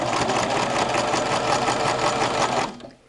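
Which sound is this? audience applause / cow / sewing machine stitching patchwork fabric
sewing machine stitching patchwork fabric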